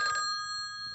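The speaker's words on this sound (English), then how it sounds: "unless we get some disturbing phone call, Chief O'Hara." An old-style telephone bell rings loudly and steadily, a bright sustained ring that fades slightly toward the end, with no voices.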